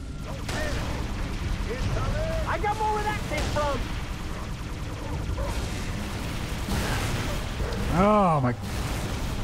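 Sci-fi combat in Halo 3 ODST, steady gunfire and explosions rolling throughout, with warbling alien voices and chatter layered over the shooting.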